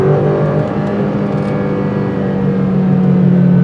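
An Alfa Romeo Giulia engine in manual mode holding a gear, a loud steady drone with a rising tone heard from inside the car, with no talk.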